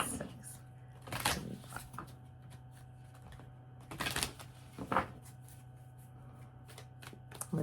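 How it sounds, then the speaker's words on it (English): Tarot cards being shuffled by hand, a series of crisp riffling bursts and soft flutters at a close, quiet level, with short pauses between shuffles. "I'm going to do a couple more shuffles."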